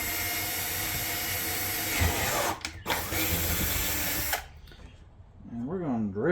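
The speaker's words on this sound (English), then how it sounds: "And we're going to drill some holes." Power drill boring holes in a TCMT Razor Pack trunk on a Harley Street Glide, a loud whining drone that dips briefly twice, then cuts off, followed by a few rising-and-falling spins as the drill is revved again.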